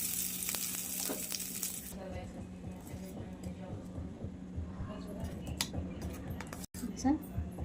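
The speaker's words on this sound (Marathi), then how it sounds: "थोडंसं जिरं पण टाकून घेऊयात आपण. नंतर हिंग टाकूयात आपण. तडका देऊन घेऊया चटणीला." Cumin seeds and asafoetida tempering sizzle steadily in hot oil for a tomato chutney, a bright frying hiss running throughout with a few soft utensil clinks near the end.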